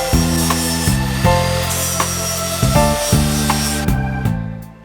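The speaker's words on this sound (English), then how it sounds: "So I've ground back all the rust best I can." An angle grinder strips rust and paint from the bodywork of a Toyota MR2, its steady whine running loud and close with several short pauses and restarts, the pitch dipping as the disc bites into the metal.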